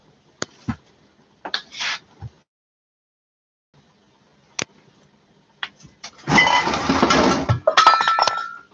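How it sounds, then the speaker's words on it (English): Stainless steel water bottle clanking: a few sharp metallic knocks and clinks spread apart, then a louder burst of rattling and clattering near the end, with no talk. "Oh, stainless steel water bottle."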